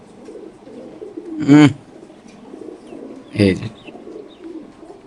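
BRPFC racer pigeons at a farm coo low and close amid a steady murmur of birds, with two louder bursts standing out, while someone talks briefly over them.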